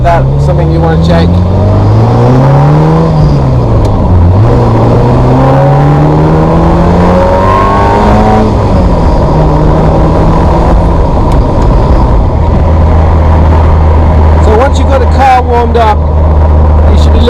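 A Ferrari 348 driving at speed, its engine rising and falling through gears, then braking hard as the revs drop to a steady low idle-like drone, loud and close from inside the car.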